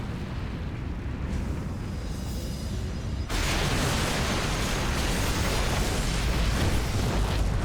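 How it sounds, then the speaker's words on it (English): A nuclear missile strike lands in the video game StarCraft 2, heard as a sustained roaring rumble that swells abruptly into a loud, dense broadband blast filling the remainder of the clip. "Well, the nuclear missile lands."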